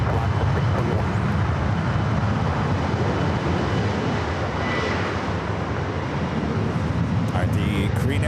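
Airliners at Los Angeles International Airport: a loud, continuous roar of jet engines dominating throughout, close and steady, with a faint higher whine rising near the end.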